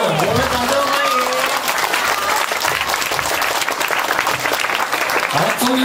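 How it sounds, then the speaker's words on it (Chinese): Studio audience applauds in a sustained, dense wave of clapping at a Taiwanese variety show, with a host's voice talking briefly over it near the start and end. "掌声鼓励一下。 我们掌声欢"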